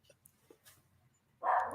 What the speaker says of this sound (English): Doggy barking somewhere.